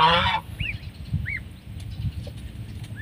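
Young geese honk and peep in short, high calls scattered across the clip over a low rumbling background, with a brief louder squawk at the start.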